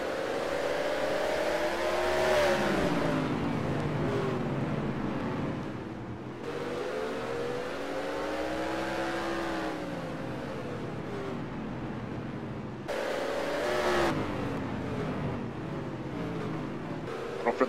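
Hobby stock race cars roar around Rockford Speedway, engines revving loud and close as several cars pass in waves, with rising and falling pitch and a steady low rumble throughout.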